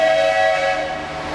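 A passing train sounds a long steady horn-like tone over a rumbling background, loud and close for a brief stretch, heard in a machine shop setting.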